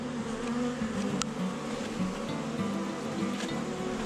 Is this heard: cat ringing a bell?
no